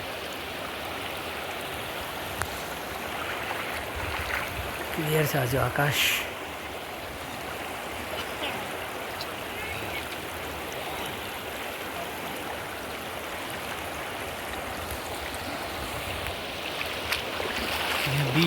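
A river crossed on the way to Rangamati, with a strong current, its water rushing in a steady, close, continuous wash throughout, with people talking over it intermittently.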